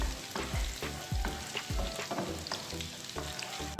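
Crushed garlic and red chili frying in hot oil for Punjabi sarson ka saag, a close, bright sizzle with repeated quick scrapes of a stirring spoon and no talking.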